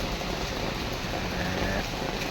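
Steady rain falls around a roofed shelter during a roadside stop on a trip from Silvassa back to Bharuch, heard from beneath the roof as an even, continuous hiss with no voices.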